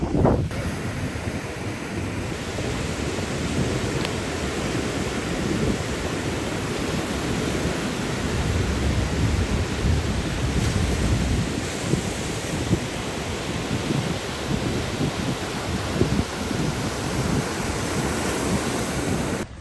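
Beach with wind and crashing surf: a continuous broad roar of waves blended with heavy wind buffeting the microphone, loud and steady throughout, with no voices.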